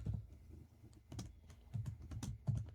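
C++ code typed on a computer keyboard, a quiet close run of irregular key clicks in small bursts with brief pauses between them, no speech.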